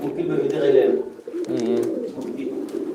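Fancy pigeons at a Sylhet loft, a pair with two chicks, give soft rounded coos in two bursts, close and fairly loud, with a voice talking over them.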